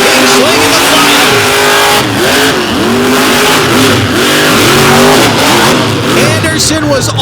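Monster truck engine roaring as the truck races down the track at a monster truck competition, loud continuous revving with rising and falling pitch and tire noise, crowd and commentary blended in.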